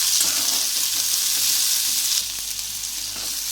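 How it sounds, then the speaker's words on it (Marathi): Onions sautéing in a small amount of oil in a pan for tomato bhaji, a steady close hiss and sizzle with occasional stirring scrapes, dropping slightly quieter partway through. "कांदा लाल होईपर्यंत परतून घ्यायचा"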